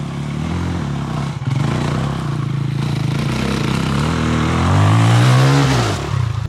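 An enduro motorcycle on a hill climb at a bush event at Bellthorpe, its engine droning loud and close with a brief dip, then revving upward in a rising whine before dropping off, no talking.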